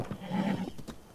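A horse in Zelda: Breath of the Wild gives a single whinnying neigh, fairly close and clear, with a few soft hoof-like clops around it.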